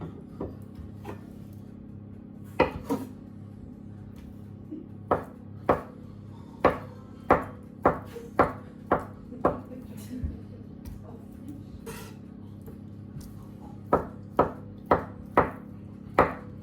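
A knife chops mozzarella on a cutting board for a tart, giving close, crisp knocks in irregular bursts, several quick runs of strokes separated by pauses.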